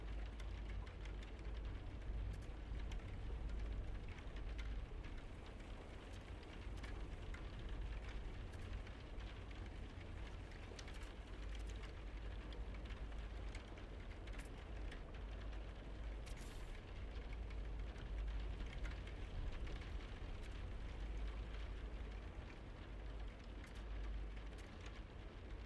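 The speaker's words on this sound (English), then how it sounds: "Paired with the rain of this planet hitting the side of the thing" Steady rain patters against the side of a ship on a planet in No Man's Sky, a constant soft hiss with low rumble, continuous and even with no pauses.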